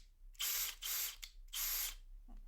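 A Makita DHP485 brushless cordless drill driver whirs in three bursts, two long runs and a short blip between, close and fairly loud, with no talking.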